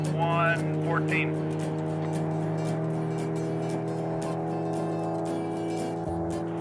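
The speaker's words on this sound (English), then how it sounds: "Car 1138, Studebaker, being driven by Skip Carlson, running on a record of 125" Studebaker land speed race car number 1138 on a record run, its engine a steady droning roar heard throughout while an announcer talks over it.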